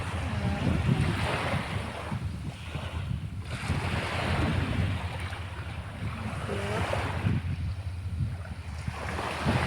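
Sea waves wash onto a beach where baby turtles are being released, rolling in and pulling back in slow surges, with gusts of wind buffeting the microphone.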